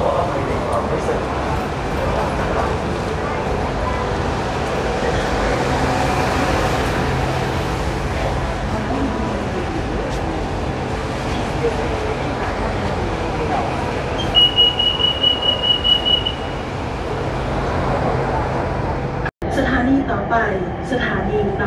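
Steady rumbling ride aboard Bangkok's Silver Line electric train between Bang Sue and Tao Poon, a continuous loud cabin roar with a brief high tone and a short clunk near the end, a voice speaking over it.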